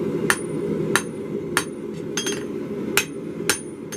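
A blacksmith's hammer strikes metal out over the edge of an anvil, six sharp ringing blows spaced about half a second apart with a couple of softer taps, alone against a low background rumble.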